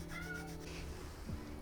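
A cat meows from outside a house, wanting to be let back in: one drawn-out, moderately faint meow with a falling tail, with nothing else over it.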